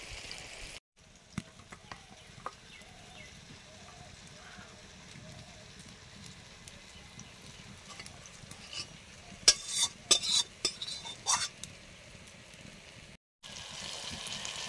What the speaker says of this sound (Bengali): মশলাগুলো ভাজা প্রায় হয়ে এসছে,